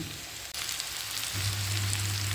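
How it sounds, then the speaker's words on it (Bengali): Egg and vegetables fry in a pan with a steady, close sizzle and crackle, a brief dip, then a low hum joining the frying toward the end. "চলো সবজির সাথে ভালো করে আর একটু ভাজা ভাজা হয়ে যাক ডিমটা"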